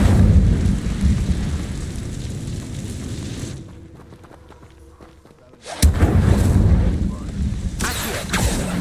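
Incendio fire spell in Hogwarts Legacy, a heavy roaring, rumbling blast that fills the first few seconds, drops away to near quiet, then surges back loud and dense, with a voice calling out over it.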